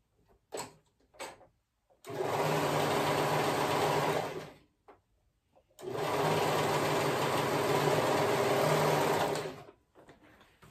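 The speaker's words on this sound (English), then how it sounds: "I'm gonna sew those sides together. Right sides together." A sewing machine stitches the side seams of a dress in two sustained, even runs of rapid mechanical whirring, preceded by a few short clicks and separated by a brief pause.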